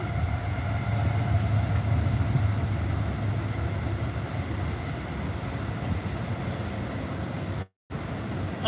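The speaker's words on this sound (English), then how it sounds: "Let's let this big ass train go by." A big train rumbles past close by in a continuous, loud roar of wheels and rail noise, with a brief dropout near the end.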